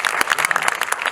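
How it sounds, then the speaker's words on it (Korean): An audience at a Korean film's guest-visit screening for 'Spiritwalker' claps loudly and continuously. The applause is dense, close and unbroken, with no talk over it. "많은 박수 부탁드리겠습니다."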